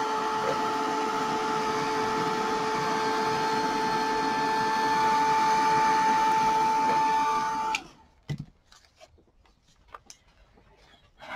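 A heat drying tool blows steadily over ink on a Halloween craft card, a loud continuous whirring hum with a faint whine that cuts off abruptly near the end, leaving a few small taps and handling noises.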